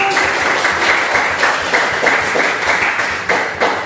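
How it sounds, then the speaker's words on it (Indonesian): A school class applauds on cue during an arts and culture lesson, a dense burst of many hands clapping in rhythmic waves that holds steadily for several seconds without talk. "Berikan aplaus dulu."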